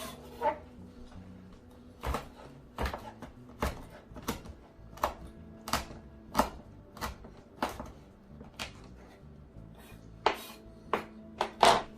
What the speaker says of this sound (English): And then I'm just going to cut up my thyme real quick.